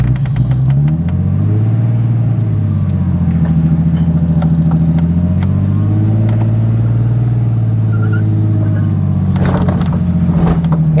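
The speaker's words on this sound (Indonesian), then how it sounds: "Lo mau gua ajak drifting beneran nggak sekarang?" A learner car with no handbrake attempting a drift, its mid-pitched engine droning loud and steady, pitch rising and falling with throttle changes throughout, with brief sharper noise near the end.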